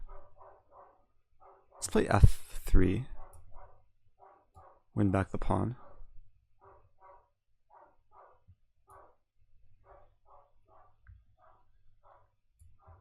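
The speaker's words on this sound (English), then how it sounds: "Dog is getting excited." An excited dog barks in two short, loud bursts of several barks each, near the microphone, while someone talks quietly and steadily about a chess blitz game.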